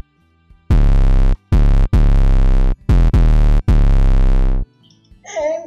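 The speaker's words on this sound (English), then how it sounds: "bypass this, just press this bypass button so that the 808 hits with the distortion effect every time" Phonk beat made in Logic Pro with heavy 808 bass hits pushed through distortion, giving five or six loud booming blasts with short gaps between them, and then a faint sound at the end.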